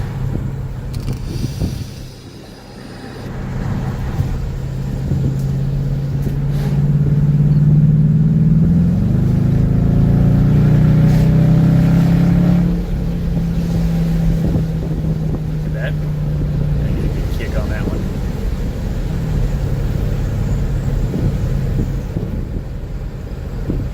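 A 2017 Dodge Charger R/T fitted with an aFe Silver Bullet exhaust drones steadily while cruising, the low engine tone rising and swelling louder midway before settling back, heard from inside the cabin with some wind noise.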